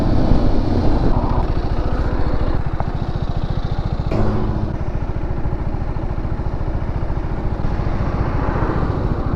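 A motorcycle engine runs at a steady, loud, low chugging idle while the bike is rolled in reverse, the throbbing unbroken and close by throughout.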